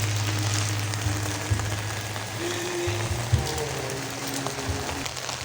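Steady rain falling and pattering on surfaces, a continuous moderate hiss with occasional louder drops, while a low hum sits underneath.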